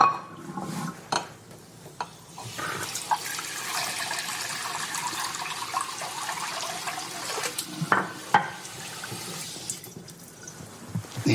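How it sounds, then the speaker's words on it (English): Tap water runs into a dog's water bowl in a home kitchen as a steady splashing rush, with a few clinks and knocks of the bowl along the way. "It's going to fill up your water bowl"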